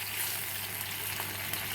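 A sauce mix gets stirred into sautéed onion and capsicum for chilli gobi, giving a close, even sizzle with soft stirring noise underneath and no clear breaks.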